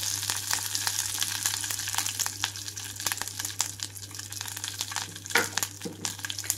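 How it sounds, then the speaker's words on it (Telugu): Tempering seeds with dried red chillies and curry leaves splutter in hot oil for a Karnataka-style chutney, giving close, continuous sizzling with scattered crackles over a low steady hum. "తాలింపు గింజలంతా చిటపటమంటూ వేగేటప్పుడే కరివేపాకు రెమ్మలు కూడా వేస్తున్నాను"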